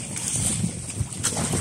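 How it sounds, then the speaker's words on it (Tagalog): Strong wind buffets the microphone in a constant rushing roar, with gusty surges over a low, noisy rumble, out on open water aboard a boat. "Medyo malakas yung hangin ha,"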